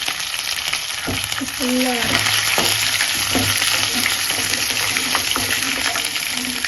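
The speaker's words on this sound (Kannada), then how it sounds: "ಈಗ ನಾವು ಬೆಳ್ಳುಳ್ಳಿ ಮತ್ತು ಶುಂಠಿ ಹಾಕ್ತಾ ಇದ್ದೀವಿ, ಹಾಗೆ ಒಂದೇ ಸಲ ಕರಿಬೇವು ಹಾಕ್ತಾ ಇದ್ದೀವಿ" Garlic, ginger and curry leaves fry in hot oil for chitranna, a dense, loud, continuous sizzle with light stirring knocks, and a voice speaks briefly over it.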